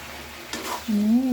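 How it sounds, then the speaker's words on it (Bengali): Eggplant being stir-fried in a pan for a hilsa fish curry: a soft scraping stir midway, then a steady close sizzle of frying with no talk. "এবার আমি বেগুনটা ভালো করে কষে নিচ্ছি।"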